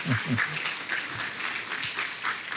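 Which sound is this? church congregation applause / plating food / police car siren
church congregation applause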